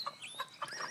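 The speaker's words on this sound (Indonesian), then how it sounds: "Ayam jantan yang berkokok dengan suara yang kuat dan khas" A rooster from a free-range flock calls in short, loud, clucking bursts about three times in a second, heard close and alone with no talk.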